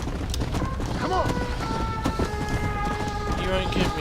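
Horse hooves pound at a gallop in the video game Undead Nightmare, a steady rhythmic clatter heard under continuous talking and game sounds.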